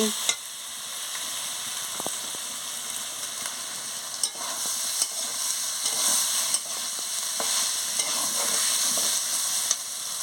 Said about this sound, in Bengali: দিয়ে ভালো করে নাড়িয়ে নিচ্ছি।